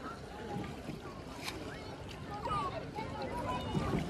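A small boat moves across a lake, carrying a soft steady rumble of water and wind, with people talking over it throughout.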